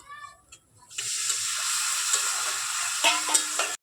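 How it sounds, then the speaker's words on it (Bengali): Lentils cooked with spices in a pan hiss loudly as a splash of water is added: a brief quiet moment, then a sudden sustained close sizzle lasting several seconds, with a few stirring scrapes near the end. "আমি ডালটাকে ভালো করে কষে নিয়েছি মশলার সঙ্গে"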